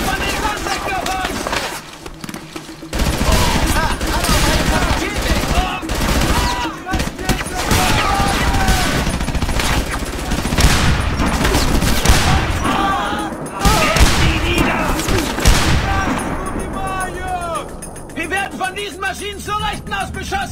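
Dense gunfire and machine-gun bursts in the PC war game Frontline: Fuel of War, loud rapid volleys and booms continuing throughout, with shouted combat voices over the shooting.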